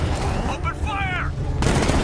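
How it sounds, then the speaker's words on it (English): During a Batman: Arkham Knight vehicle chase, rapid gunfire rattles loudly in dense bursts, and a voice briefly cuts through the shooting partway. "Open fire!"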